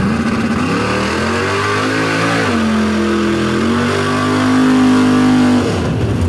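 A DOT-class drag racing car launches off the starting line, its engine holding a loud, steady roar that climbs in pitch, drops and surges again through the run, close and alone with no voices.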